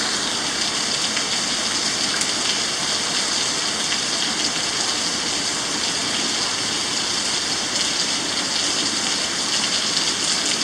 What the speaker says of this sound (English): the rain's starting to pick up drastically now